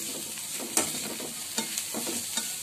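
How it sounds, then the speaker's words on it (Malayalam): Chicken snack being stirred and mixed in a pan with pepper powder, a few soft scraping strokes over a faint background sizzle, close and fairly quiet. "എല്ലാം കൂടി ഒന്ന് മിക്സ് ചെയ്തെടുക്കട്ടോ"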